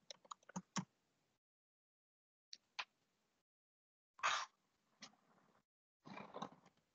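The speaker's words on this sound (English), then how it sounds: "So I will be typing for" Computer keys are typed in short bursts of quick, close clicks separated by silent pauses, faint and with no voices.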